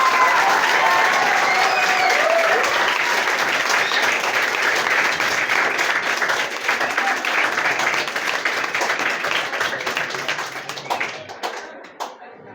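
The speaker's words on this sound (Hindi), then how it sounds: "आइए स्वागत करते हैं हम लोग एक जोरदार ताली" An audience bursts into loud, sustained applause to welcome a guest at a NEET topper event, a dense wash of many hands clapping that holds steady and then thins out and fades near the end.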